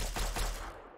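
A quick burst of several gunshots from a video game weapon, loud and close, cut in the wasteland survival game with radiation and raiders, fading out within a second with no voices.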